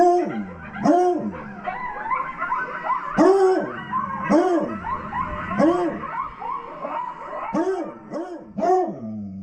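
Dogs on a full-moon night reacting to coyotes give off repeated rising and falling whimpers and howl-like yelps in uneven bursts, fairly close and prominent, with no talk over them.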